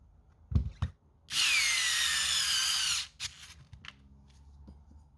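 A cordless drill screwdriver runs in one steady whirring burst of about two seconds, loud and close, with a few clicks and handling knocks before and after.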